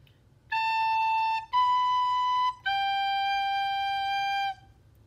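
Three tongued recorder notes sound in turn, A then B then G, each one clean and sustained, with the last held longest, played solo against a faint low background hum.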